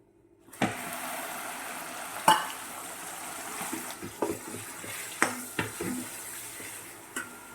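Soft continuous sizzling in a pan, broken by several sharp clanks and scrapes of a spoon stirring against metal.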